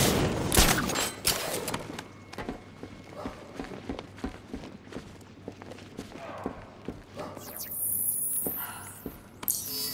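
Ship-mounted turrets fire in Batman: Arkham Knight, a rapid scatter of sharp bursts amid game effects and footstep-like clatter, with a louder rushing swell near the end.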